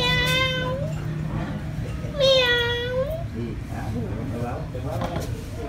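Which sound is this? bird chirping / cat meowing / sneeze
cat meowing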